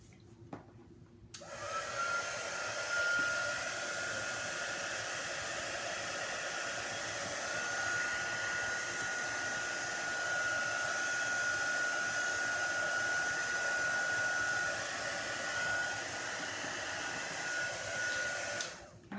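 Steady blowing whir of a heat tool drying alcohol ink for an embossing effect, switching on abruptly and running continuously at close range with a faint high whine, then cutting off at the end.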